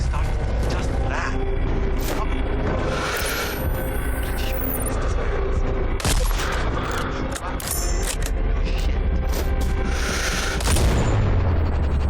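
Gunfire and mechanical clatter in the sniper shooter Sniper Ghost Warrior Contracts 2: repeated sharp cracks and booms scattered over a dense, loud game soundscape with creaks, a voice briefly audible.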